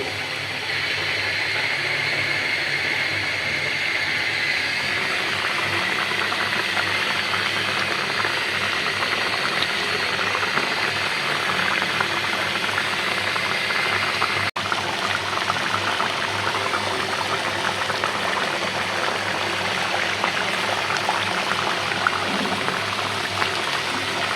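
Dal simmering in a pot bubbles with a steady, continuous close boil and a soft liquid hiss throughout, with no one talking.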